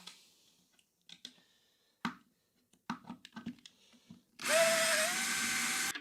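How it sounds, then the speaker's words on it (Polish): A cordless screwdriver drives hex bolts on a crib, one loud continuous whirring burst near the end after scattered clicks and handling knocks of metal parts. "Jeżeli mam dwa, to wolę sobie wykorzystać moją wkrętareczkę."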